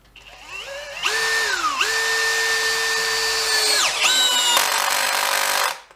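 A Makita HP332D 12V cordless drill runs at its lowest speed, a steady close motor whine that sags briefly under load, recovers, dips again near the end and then cuts off.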